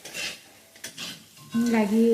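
A spatula scrapes and stirs potatoes frying in a metal kadai for Assamese aloo dum, giving a few quick clattering strokes over a light sizzle, with a voice-like tone near the end.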